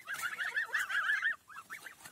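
Geese and African guinea fowl call on a farm while eating vegetables, a rapid run of honking, cackling cries followed by a few separate honks, fairly faint and close together.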